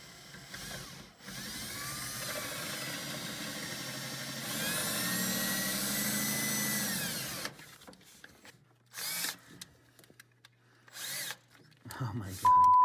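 A power drill whines steadily for several seconds, rising in pitch, then stops while drilling a hole for a turbo diesel Mitsubishi Delica EGT gauge; short bursts of drilling and clatter follow, with brief voices.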